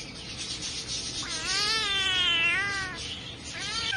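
A two-month-old kitten at a pet market gives a couple of drawn-out, wavering meows over a constant background hiss, the second cry starting near the end.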